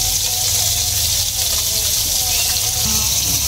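Water splashing as someone bathes outdoors in warm sun, a loud steady wash of running and splashing water close by, with no break across the stretch.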